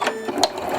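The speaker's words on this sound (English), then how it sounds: "I'm going to stitch on my leader first before I get into my project." A sewing machine stitches onto a fabric leader scrap, a brief close mechanical whir with rapid needle ticks.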